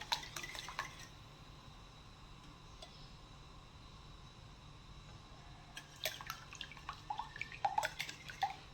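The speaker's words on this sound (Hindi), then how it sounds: "इतना हमने इसको कंबाइन करना है कि अंडे की सफ़ेदी और जर्दी जो है ना वो अच्छे तरीके से इसमें मिक्स हो जाए" Eggs whisked in a bowl to blend whites and yolks for sweet milk French toast: faint light clinks of a utensil, with a quicker, louder burst of beating toward the end, no talk.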